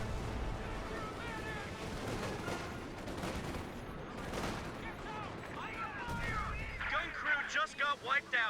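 Pack howitzer artillery and other gunfire boom through a Company of Heroes 2 battle, with repeated heavy blasts and crackling shots, building to a denser, louder flurry of bursts toward the end.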